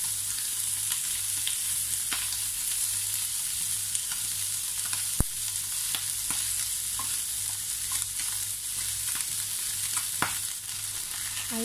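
Chicken sizzles steadily in a frying pan, with occasional scrapes and clicks from stirring across the constant crackle; close and even, with no voices.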